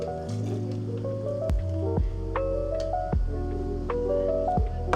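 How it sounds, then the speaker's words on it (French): Matcha is poured into a Nespresso bottle with a close, wet, glugging squish. Pulses of liquid change pitch as the bottle fills. "Ok, let's go verser mon matcha."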